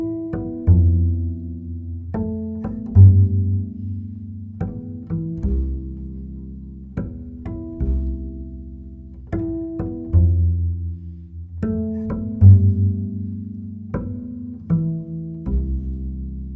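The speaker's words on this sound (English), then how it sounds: "I use these harp harmonics to set up a sustained rhythmic figure that accompanies the melody." Double bass harp harmonics form a rhythmic accompaniment figure, with plucked, bell-like chiming notes over soft low tones that repeat in a steady pattern and ring out between attacks, played alone and close with no voices.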